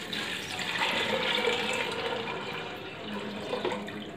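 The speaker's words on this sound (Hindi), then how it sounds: "ये इसमें पानी चला गया।" Water pours steadily into a pressure cooker holding soaked chana dal, a continuous splashing rush with a soft background hiss.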